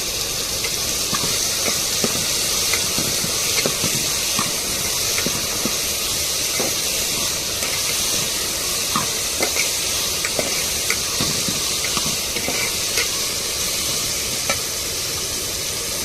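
Curry leaves sizzle in hot oil for an egg curry, a steady, dense frying hiss that runs without a break, with faint crackles and occasional light stirring scrapes and no voices.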